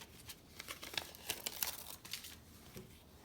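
Backing paper peeled off fusible appliqué fabric gives a dry crinkling, tearing rustle in quick uneven bursts, close and fairly loud, with no talk.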